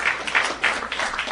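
An audience claps after a political speech: a brief, close patter of applause in uneven bursts, heard alone without talk.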